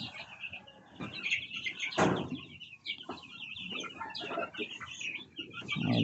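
Hens and chicks cluck in a backyard, with short, close, irregular calls and some wing flapping and scuffling, fairly quiet overall.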